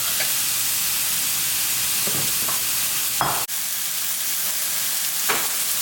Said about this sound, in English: Just sear the outside first, and then I'll probably turn it up.